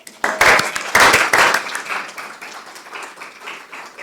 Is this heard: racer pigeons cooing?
no